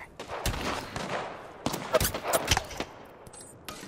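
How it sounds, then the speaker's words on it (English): Gunfire in the video game Apex Legends: several sharp, separate shots and short bursts spread across a few seconds with quiet gaps between them, moderately loud over faint background game noise. "Shot fired."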